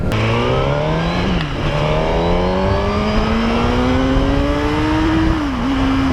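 A 2017 Suzuki GSX-R1000 sport bike engine pulls hard under acceleration, its loud, close whine climbing steadily in pitch, with two brief dips where a gear change comes before the revs rise again.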